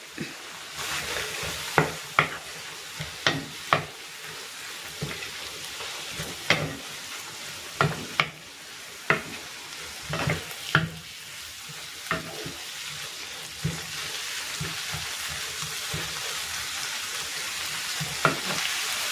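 Pork and tomatoes sauté in a pan, making a loud, continuous close sizzle with frequent crackling bursts and occasional stirring.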